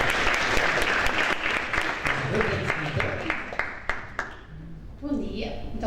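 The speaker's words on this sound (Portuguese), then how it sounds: "Uma salva de palmas para Afonso" Audience applause for a guest named Afonso at a televised CONECTV talk show, a burst of clapping that thins out and fades over several seconds, with talk and some crowd murmur mixed in.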